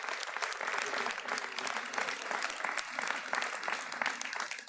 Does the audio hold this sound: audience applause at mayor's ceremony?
yes